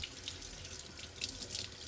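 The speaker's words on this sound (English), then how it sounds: "So let's get it started with washing the chickpeas." Running tap water rinses canned boiled chickpeas in a sink, a steady faint splashing stream with small bright spatters as the water hits the beans.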